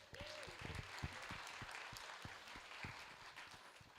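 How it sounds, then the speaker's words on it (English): Very faint applause from a crowd at a PechaKucha night, sparse claps over a soft background murmur, distant and quiet throughout. "Let's give a round of applause"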